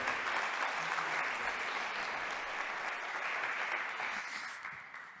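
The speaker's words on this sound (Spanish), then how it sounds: "démosle un fuerte aplauso" An audience at a happiness festival applauds two speakers taking the stage, a full, even roll of clapping from a large crowd that holds steady and then tapers off near the end.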